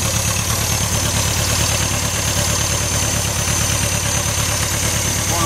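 A Fiat 600 Viotti's small engine idles steadily at close range, a continuous low rhythmic chug with no voices.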